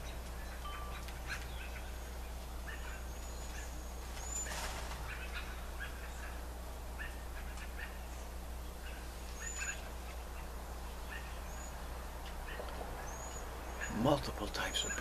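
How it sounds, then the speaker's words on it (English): Several kinds of birds call outdoors at the end of a short winter: scattered chirps and short tweets from different directions, mostly faint and distant, over a steady low background hum. "Multiple types of birds everywhere."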